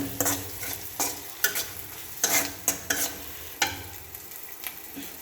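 A vegetable dish is stirred as it fries in a pan. Repeated scraping strokes ring out close and fairly loud over a low, steady sizzle, with no one talking.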